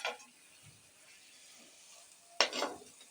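Cooked beef being stirred in a pan: a faint spatula scrape at the start and a sharper, louder scraping stroke near the end, over a low background hiss with no talking.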